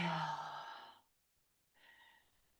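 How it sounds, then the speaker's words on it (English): A person breathes out during a yoga exercise, a long, close, audible breathy sigh that fades out after about a second, followed by a short pause and a softer second breath. "Exhale."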